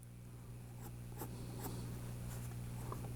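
Pencil sketching curved texture strokes for lips on paper, with soft scratchy strokes repeating in short bursts over a steady low hum, close and faint.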